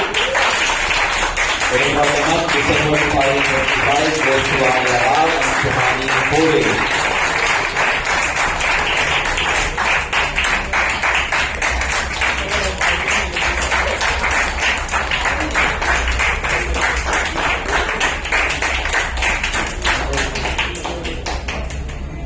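Clapping from the audience at an orator-of-the-month award ceremony as a running trophy is presented, a dense crackle of many hands that goes on throughout, with a voice speaking and music-like tones over it in the first seconds.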